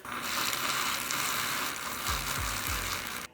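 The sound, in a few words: whisking ice cream ingredients with a milk frother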